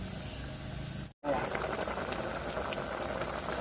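A Thai curry of bottle gourd and silkworm pupae in yanang leaf broth simmers in a pot, giving a steady hissing, bubbling roar that cuts out briefly and then resumes, fairly close and continuous.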